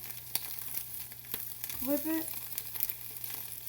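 Food fries in a pan and is flipped, giving a faint, steady sizzle with a few soft scraping taps and a brief murmur of voice partway through.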